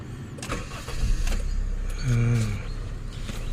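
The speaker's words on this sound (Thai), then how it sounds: "ลองสตาร์ทฟังเสียงสักหน่อยนะครับ" A 2004 Honda Civic Dimension engine cranks and catches, a short starter whir followed by a close, low idle hum, with faint handling noises around it.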